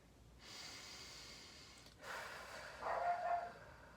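Dog snorting and huffing close by, breathy nasal puffs in two or three bursts over a few seconds, faint and alone.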